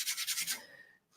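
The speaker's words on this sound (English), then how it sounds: "as we're sanding, we're not needing to sand all the way down to fill those crevices" Filler on a hobby model is sanded with a few quick, rhythmic rubbing strokes, close and fairly soft, fading out after about half a second.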